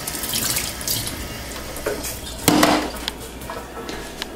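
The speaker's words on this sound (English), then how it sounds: "let me just wash this knife off a little bit" Kitchen tap water runs steadily while a knife is rinsed under it, a continuous close splashing wash with a sharper clatter midway.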